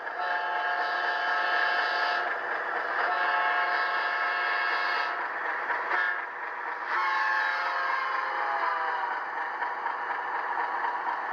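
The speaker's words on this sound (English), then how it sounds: "F5 is the Doppler horn, and I'll get it moving a little bit so you can hear it as it comes closer to the camera." An HO scale Rapido FPA-4 model train with DCC and ESU LokSound sounds a sustained, steady, loud Doppler horn, its chord pitch bending downward late as the locomotive moves past.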